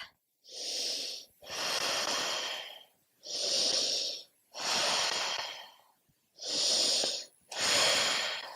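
Deep, audible breathing during Ashtanga yoga practice, six long slow breaths alternating in and out, each a loud hissing rush close to the microphone with short pauses between.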